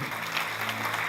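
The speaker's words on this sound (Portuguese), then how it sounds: "Você pode dar um aplauso ao Senhor?" A church congregation applauds at a worship service, steady broadband clapping filling the space throughout, with no voices standing out.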